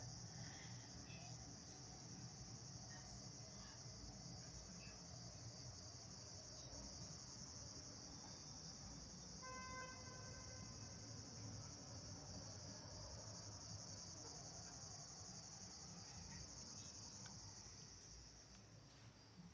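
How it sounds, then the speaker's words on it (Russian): Cicadas trill at night in Turkey in a continuous, even, high-pitched drone that holds steady throughout, faint and distant with no other sounds standing out. "Не знаю, получилось ли у вас услышать цикады."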